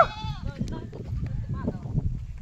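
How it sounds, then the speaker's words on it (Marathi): Goats bleating as a small herd walks past on a rural road, a loud close wavering bleat at the start followed by scattered fainter bleats over shuffling movement and background noise. "बघा यांच्या शेळ्या चालल्या."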